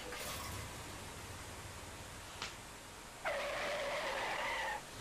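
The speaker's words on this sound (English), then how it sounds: "The car just turns up with a giant screech." In the video game Deadly Premonition, a car pulls up with a long, bright tire screech that starts suddenly late in the moment and holds for about a second and a half, following a quiet stretch with a brief whoosh.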